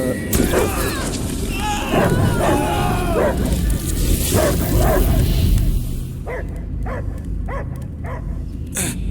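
A dog barks repeatedly in the Guardians of the Galaxy video game, loud rhythmic woofs and yips under speaking voices and game effects, with quieter separate barks near the end.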